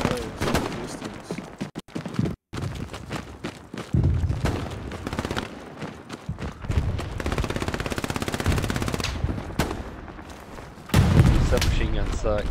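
Machine gun fire in the World War II shooter Hell Let Loose, dense rapid bursts of automatic gunfire with heavy booms, running almost continuously with a louder stretch near the end, with voices talking over it.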